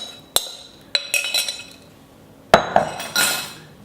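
Dry ingredients go into a bowl of watermelon and honey mixture, with sharp utensil clinks against the bowl in a few scattered bursts, close and fairly clear, with quiet gaps between.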